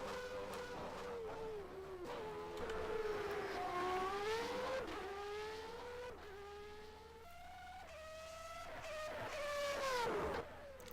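A Formula 1 car engine in a racing video game at the Australian Grand Prix, whining steadily with rising and falling pitch through gear changes, sustained and fairly distant-sounding, with no talk over it.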